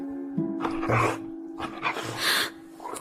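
Dogs bark and yip in a radio drama set on a farm during lambing. The barks come in repeated close bursts over a steady low hum, and no one speaks.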